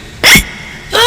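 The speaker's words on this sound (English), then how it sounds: "George drank his juice too quickly and now he has hiccups." A cartoon pig's hiccup effect after gulping juice too quickly: two separate sharp, loud bursts, the first a rising yelp-like hic and the second a higher, brighter hic about two-thirds of a second later, with quiet in between.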